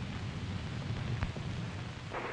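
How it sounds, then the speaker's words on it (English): A thunderstorm in a 1943 film: steady heavy rain hisses without a break, with a brief low thunder rumble in the middle and no voices over it. "You probably noticed there's a bad storm going on."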